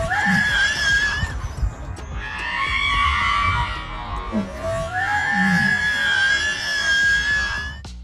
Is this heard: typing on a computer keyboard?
no